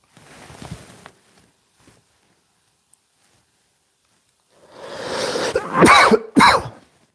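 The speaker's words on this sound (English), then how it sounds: "Coughing with a mic on is not a very pleasant experience for the listeners." A person coughs into a microphone, a short cough first, then after a quiet pause a loud, close run of several harsh coughs and throat clearing, with no talk.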